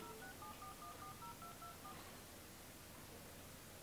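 A quick run of DTMF keypad beeps as a number is dialed on a Samsung Galaxy S6 Edge, about a dozen short tones in an uneven rhythm, over a steady hiss that continues after the tones stop.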